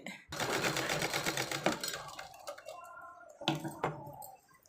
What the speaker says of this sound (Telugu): ఇలా మొత్తం రెండు వైపులా కుట్టేసుకోవాలి అంతే